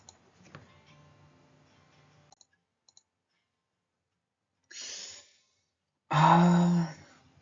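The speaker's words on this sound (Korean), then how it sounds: "제가 마우스 클릭을 두 번 했죠" A pair of quick, soft mouse clicks in near silence, followed by two breathy exhales.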